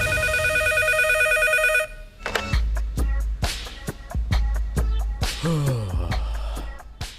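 A telephone rings in an Urdu-language TV drama: a sustained electronic ringtone, then a series of sharp, repeated tone bursts with clicks, loud and close, with no voices over it.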